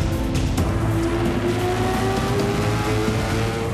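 A Lamborghini Aventador LP 700-4 V12 engine at its Geneva Motor Show 2011 premiere runs loud and steady, a continuous engine drone with a sustained tonal whine throughout and no voices.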